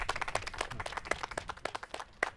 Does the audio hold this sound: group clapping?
yes